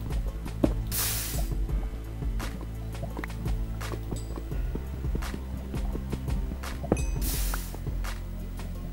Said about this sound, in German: Machen wir hier mal Wasser rein.